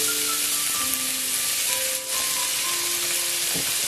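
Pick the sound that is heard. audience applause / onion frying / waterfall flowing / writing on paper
onion frying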